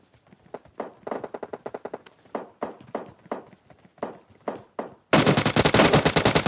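Bursts of rapid video game gunfire from PUBG crackle in short volleys, some near, some farther off, ending in a loud sustained automatic burst up close.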